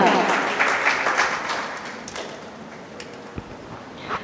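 Applause from an audience at a religious and higher education award ceremony, a dense steady clapping that swells early and gradually thins out, with a few sharper claps standing out near the end.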